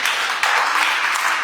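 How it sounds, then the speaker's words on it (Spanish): A church congregation applauds in a dense, continuous burst of clapping during an Easter resurrection sermon, brief and fairly loud, with a momentary dip partway through. "dale un aplauso al Señor porque Él resucitó"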